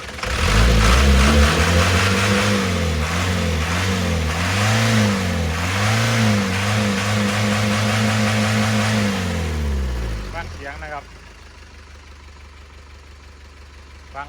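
A 1992 Isuzu NPR 115 hp truck diesel engine runs steadily and loudly with a low, rhythmic rumble that rises and falls slightly, then drops to a much quieter idle near the end.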